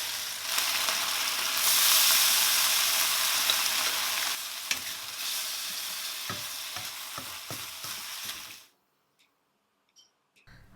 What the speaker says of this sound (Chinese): 可以分次倒入碗芡，然后快速均匀的炒一下就可以关火了。